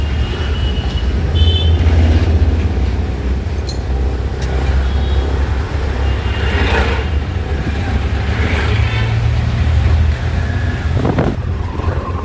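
A Scorpio creeping along a West Bengal road during a driving lesson, its engine giving a loud, steady low rumble inside the cabin with light road noise and no talking.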